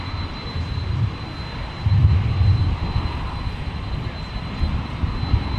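A jet airliner taxis at Minneapolis–Saint Paul airport, its engines giving a steady, fairly loud low rumble that swells briefly, with a thin constant whine above it and no talk.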